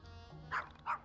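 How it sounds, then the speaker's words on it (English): A dog barks twice in quick succession in the video game YIIK, two short, clear yips over a faint background hum. "Bark, bark."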